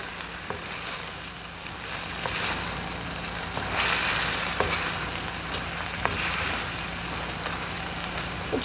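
Onion and tomato sizzle gently in a pan for karai chicken, a steady moderate frying hiss with occasional soft stirring taps and scrapes.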